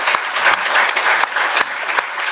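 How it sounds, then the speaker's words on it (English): A crowd at a memorial service gives a round of applause for the Marines, with sharp individual claps standing out from the steady, fairly close clapping. "Let's give these Marines a round of applause."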